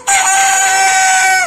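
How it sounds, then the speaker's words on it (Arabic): A single loud, close rooster crow, one sustained drawn-out call lasting over a second, heard alone with no talking. "حد عنده ديك زي كده؟"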